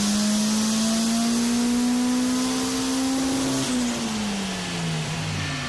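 A turbocharged Honda CRX engine with boost turned up roars continuously on a dyno, its steady loud tone climbing slowly under load, then dropping as revs fall off near the end.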